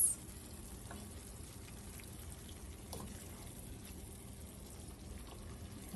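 Tomato sauce for vegan spaghetti sizzles softly and steadily in a hot pan, a faint continuous crackle with no voices over it.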